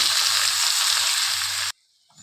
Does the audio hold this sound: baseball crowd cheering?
no